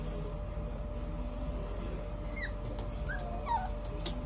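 A male dog whimpering and whining at home, several thin high-pitched whines rising and falling in the second half, moderately close over a steady low background hum.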